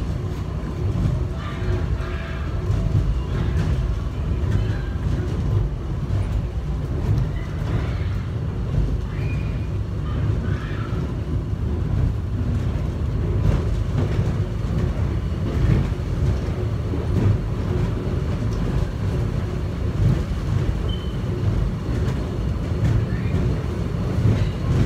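A subway train runs to an airport terminal, giving a steady, continuous low rumble and rolling track noise with faint higher squeals, close and enveloping, with no talk over it.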